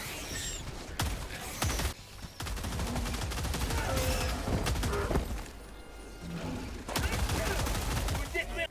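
Rapid BR-14 rifle gunfire in the video game Helldivers 2, sharp repeated shots in bursts against a busy battle din, with a voice talking over the action.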